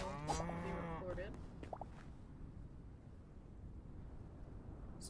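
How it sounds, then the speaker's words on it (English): A zombie cow in a video game lets out a loud, drawn-out moo with rising harmonic bellowing near the start, then the sound fades into steady low wind-like ambience for the rest of the stretch. "Zombie cow."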